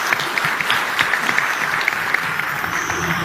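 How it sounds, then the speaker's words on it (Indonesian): Audience applause at an Indonesian gathering, a crowd clapping steadily and fairly loudly for a few seconds, with some low murmur beneath and no speech on top. "Tepuk tangan dulu."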